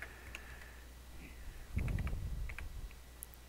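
Keys on a computer keyboard are typed in a short quick burst of soft clicks midway, faint and close, over a quiet background.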